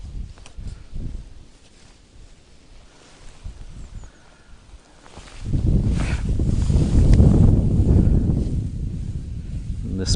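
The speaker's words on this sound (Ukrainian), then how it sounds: "несподіваний вітер" Quiet rustling by a river gives way to a sudden, loud gust of wind that roars and buffets the microphone for several seconds.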